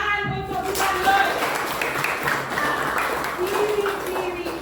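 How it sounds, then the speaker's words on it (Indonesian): A small group claps unevenly beneath some chatter and voices, with a few brief pinging tones in the mix. "Tepuk tangan untuk Pak Lois."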